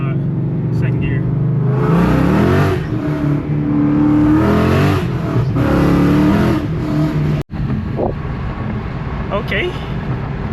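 A Ford Mustang accelerates hard through the gears, its loud, close engine climbing in pitch with each shift, with a clunk near the end and talk mixed in.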